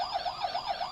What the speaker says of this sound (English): The first is this police car.